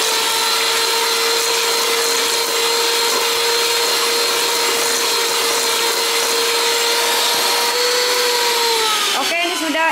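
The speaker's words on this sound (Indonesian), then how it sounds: "jadi kita mixer gula sama telurnya harus betul-betul larut gulanya" An electric mixer beats sugar and eggs for bingka Ambon, giving a loud, steady motor whine that holds constant, then falters and shifts pitch briefly as it is slowed near the end.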